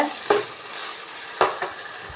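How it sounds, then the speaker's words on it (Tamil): Tomatoes for a dried-fish curry are stirred in a hot pan, with two distinct scraping strokes over a faint, steady sizzle. "தக்காளி நல்லா இப்படி வதக்கிடுங்க."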